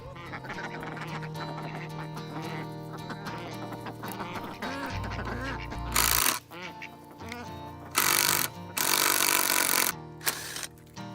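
Welsh Harlequin ducks quack in bursts on a farm where building work goes on, the calls mixed with loud, broadband tool or clatter noise and a steady background hum, with no talk.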